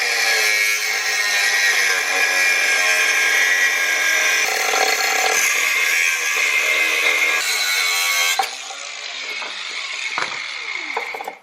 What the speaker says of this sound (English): I'm actually just gonna chop half the mounting bracket off of that bumper.